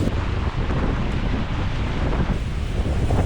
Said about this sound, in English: The wind didn't wait until the next day to rise above 40